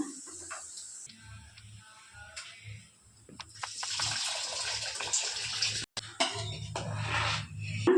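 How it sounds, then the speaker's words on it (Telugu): Boiled water pours off rice being cooked for country-chicken biryani, a splashing gush that starts small, then swells into a steady loud stream with brief gaps and clinks of the pot. "ఇలా కలిపేసి ఒక పొంగు వచ్చినాక నీళ్ళన్నీ వంపేయాలండి"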